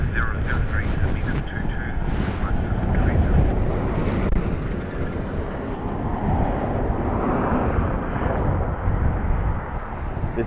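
Strong gusting wind buffets the microphones at Dublin Airport during blustery crosswinds, making a steady, heavy low roar with rough rumbling that runs through the whole stretch.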